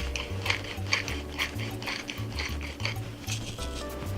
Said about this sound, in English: I'm going to put in a grind or two of pepper.